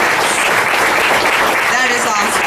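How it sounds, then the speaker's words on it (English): Steady applause from a room of guests at a 2018 company awards luncheon, dense and continuous throughout with a faint voice under it. "So a round of applause to you guys and becoming certified production technicians."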